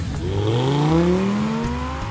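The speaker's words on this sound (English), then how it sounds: "The bass thrum of the V10 can set off car alarms" An Audi R8's V10 engine revs up, its pitch sweeping upward in a smooth rising howl, loud and close, with no voices.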